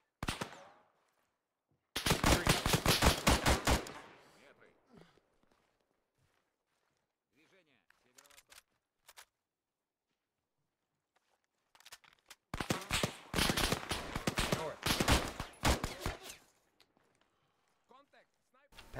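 Two long bursts of automatic gunfire in the video game Insurgency, each lasting a couple of seconds and separated by a quiet stretch with scattered footsteps and shots, while players talk over radio-style chatter.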